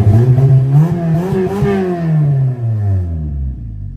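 Car engine revving through an aftermarket free-flow or chambered exhaust, a loud, close, deep burbling roar that climbs, holds with crackles, then falls away to a low rumble and fades.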